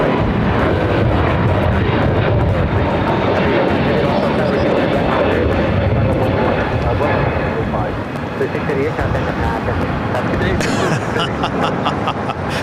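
Airbus A320neo family airliner heading out at LAX, its engine roar a steady broadband rumble that fills the scene, with people talking over it throughout.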